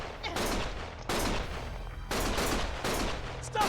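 Bursts of rapid gunfire in the video game Lost Judgment, several loud sustained volleys separated by brief pauses, close and harsh, with no talk over them.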